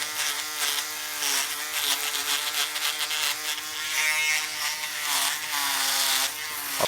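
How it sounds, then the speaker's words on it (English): An electric shaver buzzes continuously up close during a fade haircut on thick hair, its steady drone shifting slightly in pitch as it moves. "Using a shaver, there really isn't."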